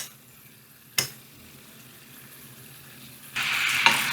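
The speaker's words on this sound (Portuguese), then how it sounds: "Podemos jogando o molho por cima do peixe." Sauce splashes over fish in a hot pan, a faint click giving way to a sudden loud, steady sizzle and hiss near the end, with a small clatter inside it.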